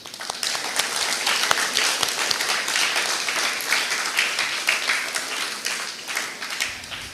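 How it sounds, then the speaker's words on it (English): Sustained applause from a crowd at an eighth grade graduation ceremony in Pohnpei, dense steady clapping filling the whole stretch at moderate loudness, with faint voices mixed underneath. "Please let us give these students another round of applause."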